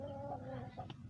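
A hen recovering from a blocked vent gives a few faint, brief clucks close by, heard alone against quiet background noise.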